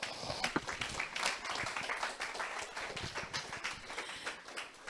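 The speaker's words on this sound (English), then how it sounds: "Another round of applause for David" Audience applause at a livestreamed career event, a round of clapping for a speaker; fairly faint, steady dense claps filling the whole stretch without voices on top.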